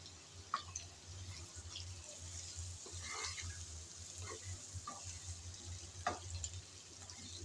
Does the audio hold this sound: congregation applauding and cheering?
no